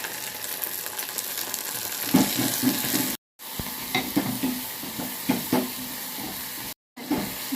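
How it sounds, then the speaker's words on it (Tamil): Turkey berries (sundakkai) sauté in a hot pan with a steady sizzle, a spoon scraping and stirring through it in bursts, and two brief silent gaps break the sound. "இந்த சுண்டைக்காய் வந்து நல்லா வதங்கணுங்க"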